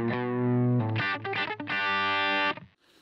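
Electric guitar twangs two low notes at the bottom of a minor pentatonic lead, then a quick run of notes, played close and loud through a distorted tone, then fading to quiet.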